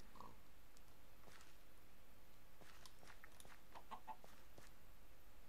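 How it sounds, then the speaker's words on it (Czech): Minecraft chickens clucking in the game, a few short soft clucks near the start and a quick cluster near the end, faint over a low steady background hiss. "A hele, počkat, slepice."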